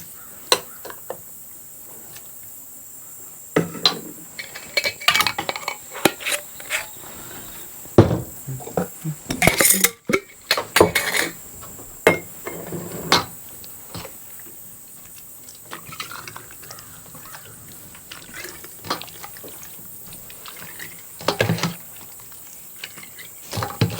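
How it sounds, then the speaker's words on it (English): Hot tomatoes ladled into glass canning jars, giving scattered pouring splashes and liquid fills with faint clinks, moderately close, in several separate bursts amid quiet pauses. "You hear this certain tone when it first goes in, and then with each ladleful, a little different tone"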